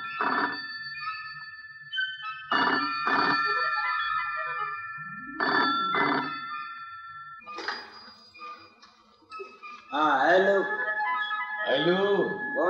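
An old-style telephone rings in repeated double bursts with pauses, close and clear, as voices speak in between the rings.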